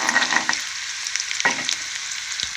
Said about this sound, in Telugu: అలాగే పోపులు కూడా వేసేసుకుందాం